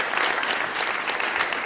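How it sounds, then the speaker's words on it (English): A crowd at an award ceremony gives dense, steady applause for Hannah, loud and continuous throughout with no pause, with no voices on top. "Big round of applause for Hannah, please."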